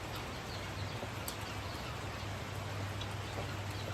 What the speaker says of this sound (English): if it quits raining